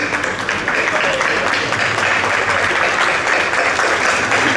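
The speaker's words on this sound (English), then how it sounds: "Please give a huge round of applause to our artists today." A large crowd claps continuously for musicians and dancers at the Toronto Rath Yatra festival, broad even applause holding steady and loud from start to finish.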